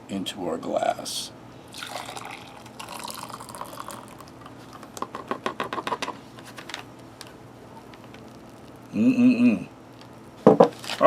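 Hot water pours from a zip-seal MRE pouch into a glass, brief splashing and trickling bursts among crinkling packaging sounds and scattered handling clicks, fairly close.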